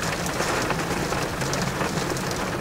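Heavy rain at night during a thunderstorm, a loud steady roar of drops pattering on surfaces with a faint low rumble underneath, continuous throughout.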